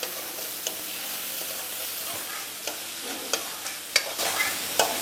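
Spiced masala gravy cooks in a pan with a soft continuous sizzle, broken by occasional sharp spatula scrapes and taps that grow a little more frequent toward the end; no voices.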